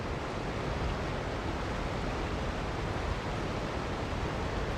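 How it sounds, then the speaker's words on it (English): Loud waterfalls in Fontaine in the video game Genshin Impact make a steady, dense wash of rushing water. The roar holds at an even level throughout with no other sounds standing out. "That's some loud waterfalls."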